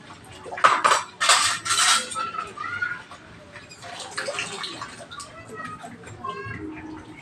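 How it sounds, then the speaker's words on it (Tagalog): Dishes being washed by hand at a home sink, with plates and cutlery clinking and clattering in water, loudest at the start and then continuing in lighter knocks under background voices and children's speech. "Ito, naglilinis tayo ng hugas ng pinggan."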